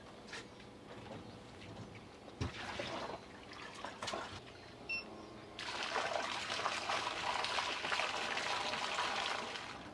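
A 12-volt bilge pump running from a power bank pushes water out of a dinghy, giving a steady trickling splash that grows louder and fuller partway through, with a few clunks near the start.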